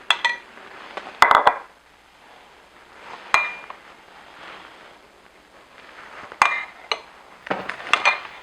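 A metal spoon clinks in a few sharp, separate taps against a dish while buffalo sauce is spooned onto vegan cauliflower pieces, with quiet scraping between the taps.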